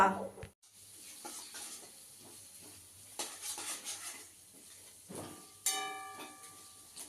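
Chili chicken is stir-fried in a pan with a soft, steady sizzle. A spatula scrapes and stirs against the pan now and then, and there is an occasional clatter of utensils. The sound is fairly faint and close.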